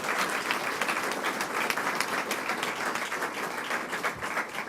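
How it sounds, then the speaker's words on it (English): An audience claps in sustained, dense applause for a speaker at a statewide announcement by the New York governor on smartphone restrictions, the clapping loud and steady throughout with no voices heard. "Let's give her another round of applause"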